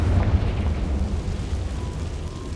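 A deep, rumbling blast from the Confringo fire spell in the game Hogwarts Legacy, a single heavy boom at the start that decays into a low, fading roar.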